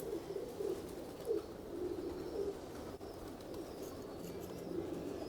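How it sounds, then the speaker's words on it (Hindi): Punjabi Majh pigeons cooing in a low, continuous murmur, with several soft coos rising and falling steadily throughout, fairly close and moderately quiet, with no talk. "साढ़े मशहूर कबूतर है मझ वाले, पंजाबी मझ वाले"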